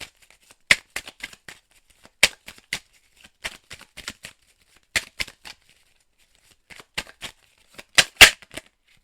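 Lenormand cards being shuffled by hand in a series of crisp, irregular riffles and snaps, near and alone with no voices.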